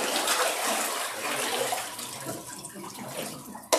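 Water splashes and pours at an Easter Sunday church baptism, a steady washing rush that fades slightly toward the end, with a short knock right at the close.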